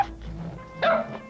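Dogs bark at a cat near chicks, with a short, fairly close bark or two and a whimpery edge. No one speaks.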